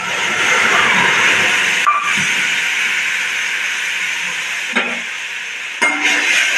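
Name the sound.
boiled food poured into hot pan with mustard seeds, sizzling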